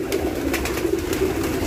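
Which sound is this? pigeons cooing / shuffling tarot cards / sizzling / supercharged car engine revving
pigeons cooing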